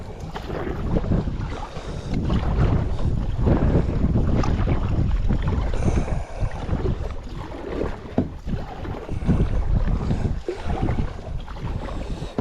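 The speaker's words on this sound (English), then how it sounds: "kayaking in the wind here" Wind buffets a kayak out on a lake, with gusty rushing and loud microphone buffeting that rises and falls in waves, close and continuous. No voices.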